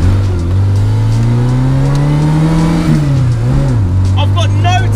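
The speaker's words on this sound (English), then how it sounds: "I've got no tachometer, so I'm not sure how fast I'm actually revving the engine." The 850cc engine of a 1991 Robin Reliant three-wheeler revs steadily while driving, a loud buzzing drone that climbs in pitch, dips briefly, then settles, with continuous road and cabin noise underneath.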